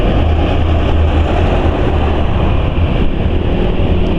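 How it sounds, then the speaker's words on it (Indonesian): A Suzuki Nex II scooter, running petrol dosed with white fat additive, idles with a steady, close exhaust drone and a low hum, unbroken throughout. "mantap suara knalpotnya"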